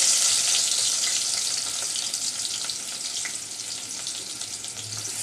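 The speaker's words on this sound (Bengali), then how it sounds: "আমি প্রথমে পরিমাণ মতো তেল গরম করে নিয়েছি এখানে পরিমাণ মতো পেঁয়াজ দিলাম" Sliced onions hit hot oil in a pan for a koi fish curry, giving a loud, steady close sizzle that fades slightly over several seconds, with no voices.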